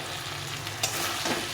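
Pre-fried potato and cauliflower are sautéed with spices in hot oil, giving a steady close sizzle broken by a couple of quick stirring scrapes, with no voices.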